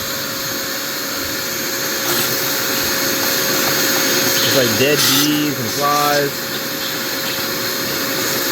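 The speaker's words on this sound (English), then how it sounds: "I'm gonna vacuum out all this grime right here." A vacuum cleaner cleans grime out of the air filter housing of a 2016 Jeep Patriot, a steady loud drone with a brief pitch-shifting whine midway as debris is sucked up, while someone talks over it.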